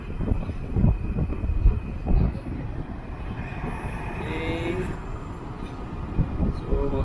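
A repaired LG Dual Inverter air conditioner runs with a steady broad whir and hum, while a person talks nearby and a faint tonal whine rises briefly midway.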